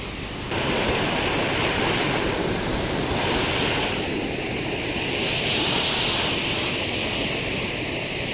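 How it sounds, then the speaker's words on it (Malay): Rushing water flows continuously, a dense steady roar of a river heard close by at a campsite in Perak, with no voices. "Satu lagi sungai dekat sini."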